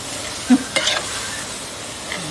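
Food being stirred with oyster sauce in a frying pan, a soft scrape and clack of the utensil followed by a brief sizzle, close and fairly quiet against steady background hiss.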